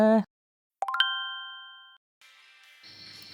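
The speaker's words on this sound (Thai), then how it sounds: "อย่าลืมกดกระดิ่งด้วยนะ" A bright bell ding rings out and decays over about a second, between short electronic tones and a brief chime.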